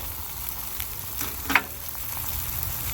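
Burger patties and bacon slices sizzle on a 28-inch Blackstone griddle, a steady close frying hiss with a brief sharper crackle near the middle and no talking.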